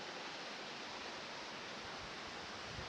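Hotnitsa waterfall in Bulgaria pours in a steady, dense broadband roar with no pauses or shifts, close and continuous throughout without any voices.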